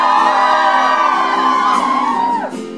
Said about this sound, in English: You guys are the loudest crowd I think I've ever witnessed in my entire life.